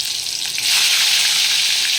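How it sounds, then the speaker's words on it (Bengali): Vegetables for a sweet ridge gourd sukto hit hot oil in a pan, a loud steady sizzle that jumps up in intensity after a quieter start and crackles on without talk. "আমার এখানে তেল খুব ভালো করে গরম হয়ে গেছে, এবার আমি এক এক করে সব সবজিগুলো ভেজে নেব।"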